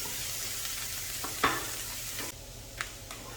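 Salmon sizzles in a pan with chopped mushrooms, a steady loud hiss of frying with a few sharper crackles and the clatter of a utensil stirring, with no talking.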